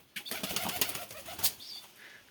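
Pigeon taking off and flying in a yard, a quick burst of flapping wingbeats lasting about two seconds, close and fairly quiet, with no talk.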